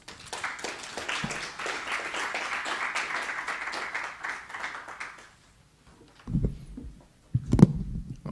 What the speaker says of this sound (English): can I get another round of applause for Dr. Kerry Wallace